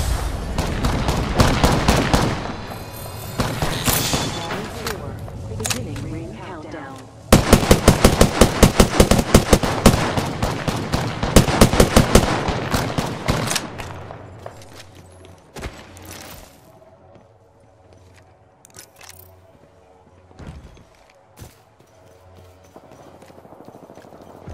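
Rapid bursts of automatic gunfire rattle in Apex Legends, two long dense volleys of sharp shots separated by a pause, then scattered lighter shots and softer game noise trailing off.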